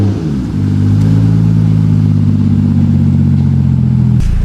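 A MKIII Toyota Supra with a swapped 2JZ-GTE Aristo engine fires up for its first start, then settles into a loud, steady idle with a deep rumble close by, ending abruptly.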